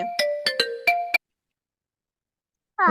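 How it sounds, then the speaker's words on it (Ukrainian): A short electronic Viber incoming call ringtone plays about five quick chiming notes, then silence, before another tone begins at the end. "Малята, хтось нам телефонує Вайбері."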